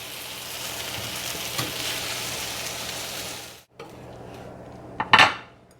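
Roasted tomatillos scraped out of a hot skillet with the heat just switched off: a steady sizzle and metal-on-pan scraping, a brief lull, then a sharp clatter of utensils near the end.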